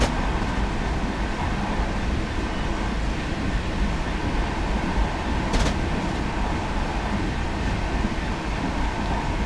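A steady, low diesel rumble from a Class 66 freight locomotive of nearly 130 tons in Train Simulator 2017 drones continuously, with one brief higher-pitched clank partway through.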